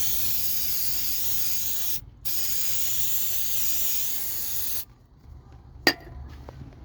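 Brake cleaner sprayed onto the rear axle of a Jeep Commander 5.7, two loud sustained close hissing bursts with a brief gap between them, followed by quiet and a single sharp knock.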